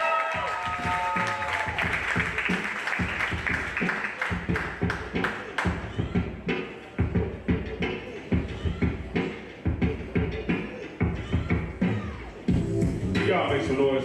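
An open mic night audience applauds, with dense clapping that thins into a looser rhythm of individual claps, mixed with crowd voices and cheers.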